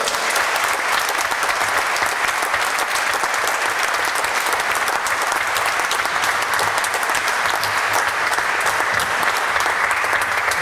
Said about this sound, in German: Und werde euch jetzt nochmal ganz gezielt dem Applaus der Massen aussetzen.